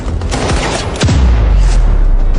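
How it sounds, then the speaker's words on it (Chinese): Guns fire in the Delta Force animated shooter game, with loud, close bursts of rapid gunshots and booming reports that repeat over a heavy rumbling background. "你缩回去，我开火"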